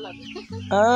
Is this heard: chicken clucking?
yes